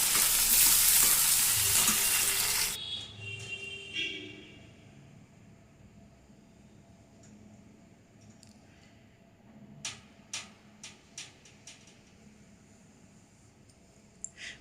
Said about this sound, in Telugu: బాగా పోపు ఇట్లా వేగుతుందండి.